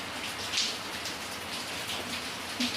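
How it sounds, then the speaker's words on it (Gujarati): Steady rain pours down outdoors while hot gota fritters are being fried, a continuous even hiss of falling drops with a few louder spatters, no voices. "વરસાદ એક બાજુ ચાલુ છે અને અહીંયા બને છે ગરમા ગરમ ગોટા"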